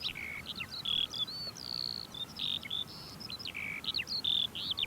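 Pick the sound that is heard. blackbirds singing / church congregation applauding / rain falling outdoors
blackbirds singing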